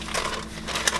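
Parchment paper folded up around a za'atar seasoning blend gives a steady close crinkling and crushing with a few louder crackles, no voices.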